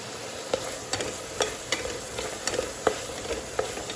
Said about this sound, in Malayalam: സവാളയൊക്കെ വഴണ്ട് വരുന്നുണ്ട്.